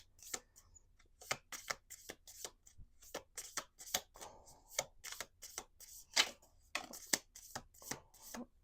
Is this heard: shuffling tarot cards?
yes